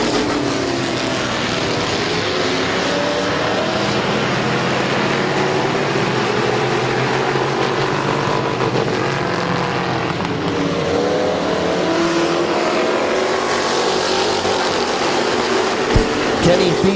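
Race cars at Midvale Speedway roar steadily around the track, engine noise loud and continuous throughout, with a commentator's voice running over the racing.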